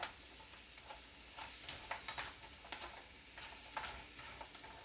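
Shrimp sizzle and simmer in a pan, a steady soft crackle broken by stirring clinks and scrapes, at a moderate, even level.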